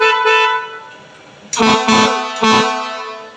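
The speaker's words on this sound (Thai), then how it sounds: "เดียววิแตรลมให้ฟัง" A loud, harmonic truck air horn blares steadily, then two sharp louder blasts cut in, each starting abruptly and ringing out close by.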